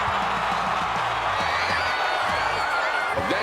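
A 14,000-strong rugby crowd at the Free State Stadium cheers a try, a loud, continuous roar of voices and whoops, with commentary faintly under it.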